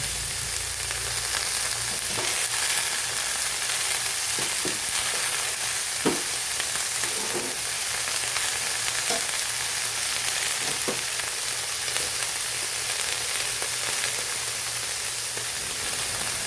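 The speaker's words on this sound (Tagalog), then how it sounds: "Ihulog na natin ang matigas na bahagi ng ating kangkong, ang kanyang mga tangkay." Kangkong (water spinach) stems fry in a hot pan with a dense, even sizzle, while a spatula scrapes and stirs at irregular intervals, close and steady throughout.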